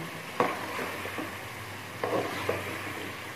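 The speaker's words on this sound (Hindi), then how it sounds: "इसको हम 7 से 8 मिनट अच्छी तरह इसकी बुनाई कर लेंगे।" Chicken being fried and stirred in a pot for a Pakistani chicken kaddo curry. A few sharp spoon scrapes rise over a soft, steady background sizzle, with no talking.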